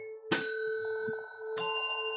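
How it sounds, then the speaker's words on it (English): A small handheld bell is struck twice, each ring a bright metallic ding with a long sustained tone, close and clear with quiet between strikes. "Oh, your bell sounds nice."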